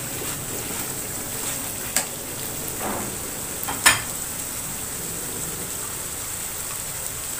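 Whole spices (cardamom, cloves, cinnamon sticks and bay leaves) sautéing in a pot for egg biryani: a faint, even hiss with a couple of sharp clicks from a utensil.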